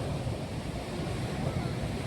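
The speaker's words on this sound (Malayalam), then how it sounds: "കടൽ ഇപ്പുറത്തോട്ട് അടിച്ചു വരികയാണ്" Rough sea surf roars continuously, a dense wash of breaking waves splashing onto a footpath, with wind buffeting the microphone throughout.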